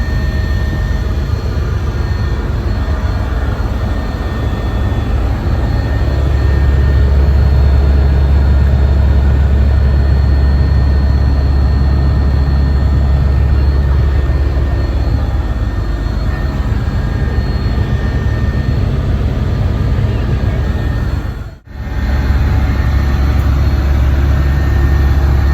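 Steady, loud interior engine drone inside a helicopter flying over Ayodhya, a constant low rumble with broadband whine throughout, briefly cutting out near the end before resuming.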